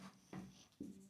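Faint chalk or marker strokes on a board during an electrical machines lesson, three short scratchy squeaks in quick succession, close but very quiet with no talk.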